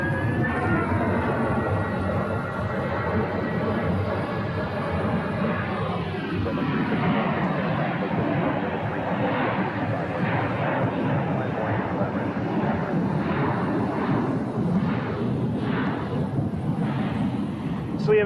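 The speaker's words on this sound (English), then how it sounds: "737-700 pushing back for departure" A Southwest Boeing 737-700 airliner pushing back for departure at Phoenix, a loud continuous jet engine roar with shifting whine, distant and broad, steady for the whole stretch.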